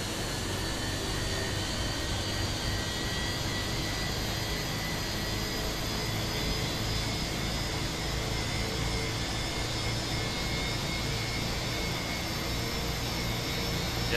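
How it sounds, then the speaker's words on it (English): An airliner's jet engine spooling up, a steady, loud, broad roar with a sustained whine, continuous and unchanging throughout, heard from nearby inside the aircraft. "Take a look at that engine that's starting up."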